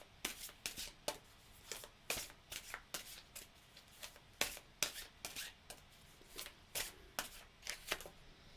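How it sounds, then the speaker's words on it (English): Oracle cards are shuffled close up, giving a steady run of crisp riffling slaps, each burst brief and evenly paced, with no talking. "Let's pull a card for you."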